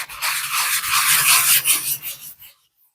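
Sandpaper rubs briskly back and forth over a sheet of laser-cut balsa wood rocket fins, a close, loud scratchy rasp for about two and a half seconds that then stops.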